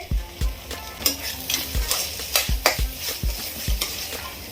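Ginger garlic paste frying in a pan for Mumbai-style pav bhaji, with a spoon scraping and knocking against the pan in quick, irregular strokes over a soft sizzle, close up.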